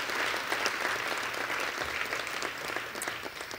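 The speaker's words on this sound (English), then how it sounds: "let's give him a round of applause" An audience at an employee recognition and leadership award ceremony gives a steady round of applause, a dense even wash of many hands clapping throughout, with no talk over it.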